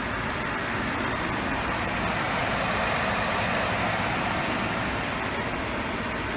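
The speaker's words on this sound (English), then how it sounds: "This is a very smooth running engine." A 2015 Ford F-150 Lariat EcoBoost engine idles steadily and smoothly, a constant low rumble with no other sounds over it.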